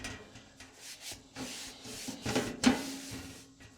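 Rust being scrubbed off the steel surface of a Blackstone griddle, a steady back-and-forth rubbing and scraping close by, with a low hum underneath and a sharper scrape near the end.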